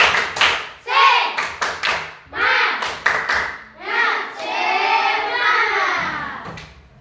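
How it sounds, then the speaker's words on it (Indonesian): Students in a classroom perform a rhythmic clapping routine, sharp bursts of claps in set patterns with their voices chanting along between and over the beats. "mari kita tepuk semangat dulu"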